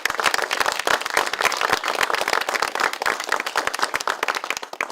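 A crowd at a Democratic Party 62nd founding anniversary ceremony, held at a historic birthplace house, claps for the party leader: brisk, irregular handclaps, fairly close and continuous, with no talking over them.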